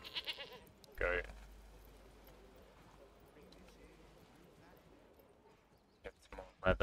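In the medieval village-building game Manor Lords, a goat gives a loud bleat early on and more bleats near the end, over a quiet farmyard ambience, with a voice talking close by.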